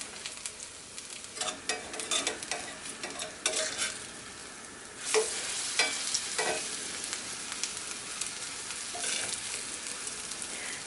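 A vegan patty fries in a pan with a quiet, steady sizzle, broken by scattered crackles and pops and a few louder stirring scrapes, heard up close with no voices.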